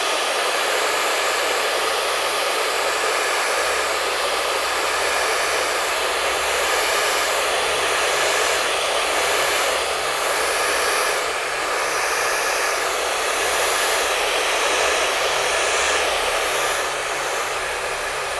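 A hair dryer blows steadily and loudly throughout, drying hair during a short cut styling session, a continuous broadband whoosh with slight fluctuations and no speech.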